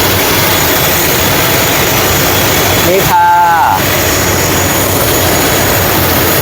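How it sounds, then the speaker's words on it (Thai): Jet engine roar of a small propeller airliner on the ground, a steady loud broadband drone filling the whole clip, with someone speaking briefly over it near the middle. "วันนี้เป็นเครื่องบินเล็กนะเป็นเครื่องบินใบพัดนะท่านผู้ชม"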